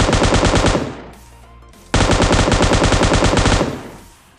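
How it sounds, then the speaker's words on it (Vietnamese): Sustained automatic gunfire in PUBG Mobile on the desert map, likely an M249 light machine gun, in two long rapid bursts separated by a short pause, loud and close with no voices over it. "dưới này có bắn nhau."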